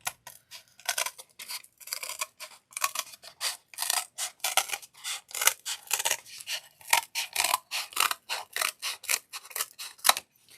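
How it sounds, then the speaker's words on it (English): Scissors cutting paper along a fold crease, a close series of crisp, rhythmic snips repeated steadily throughout with no voices. "you can see the crease, and then you can cut along that"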